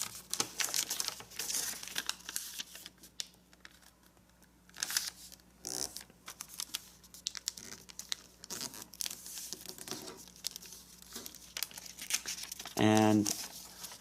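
Origami paper being folded in half, edge to edge, giving intermittent soft crinkles and creases with a louder crisp crumple near the end, under a low steady background hum.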